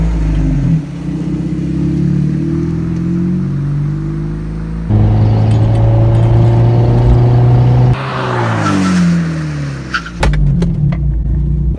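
Car engine revving and accelerating hard, then braking during a brake test comparing cheap rotors with drilled and slotted rotors and performance pads, with loud rising engine tones, a shift in pitch and a brief faint tire squeal, no talking.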